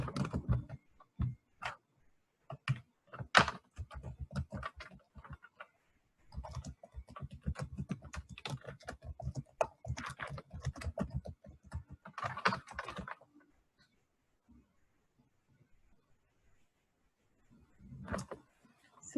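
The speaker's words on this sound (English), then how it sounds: "Let me type a message." Keys clatter on a computer keyboard in irregular bursts of close, crisp taps with brief pauses, a short quiet stretch near the end, then a final flurry of typing.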